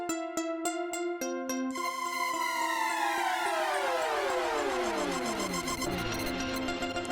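A synthesized siren from a Transit 2 motion effects plugin patch sweeps and wails in electronic tones, beginning with a few rapid pulsed beeps before gliding pitches overlap and cascade downward, steady and loud.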